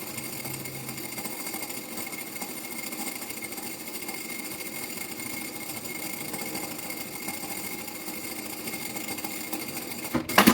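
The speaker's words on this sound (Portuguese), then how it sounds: "E vamos passar uma costura em cima para fazer o nosso bolso" Sewing machine stitching a seam across folded fabric to form a pocket on a preschool backpack, a steady fast whirring buzz running continuously at moderate level, ending in a few sharp clicks as it stops.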